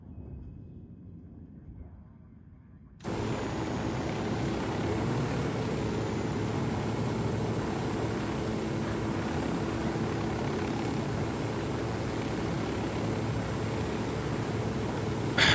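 Helicopter flying in the video game Ghost Recon Wildlands, a loud steady rotor and engine roar that cuts in abruptly after a quieter start and then holds constant and close.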